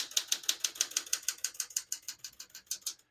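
Line space and carriage return lever on a 1975 Smith-Corona Galaxie 12 portable typewriter: a fast run of about sixteen sharp, evenly spaced ratchet clicks over three seconds, close and crisp with no talk.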